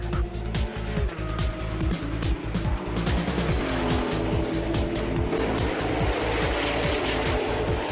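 An Opel Manta race car at the Nürburgring 24 Hours roars continuously, its engine note sweeping up and down through gear changes, loud and close, with other racing cars blending into a dense track din.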